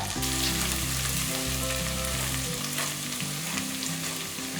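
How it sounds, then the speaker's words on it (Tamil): Onions sauté with salt in hot oil for a soya-chunk gravy, producing a loud, dense sizzle close up, with the scrape of a spatula stirring through the pan and no voices. "இந்த வெங்காயம் வதங்கிட்டு இருக்கும் போதே"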